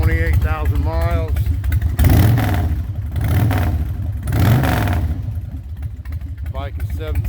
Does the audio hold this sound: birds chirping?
no